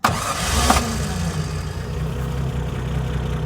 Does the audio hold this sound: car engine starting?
yes